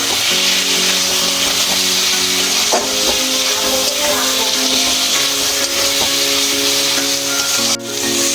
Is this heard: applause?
no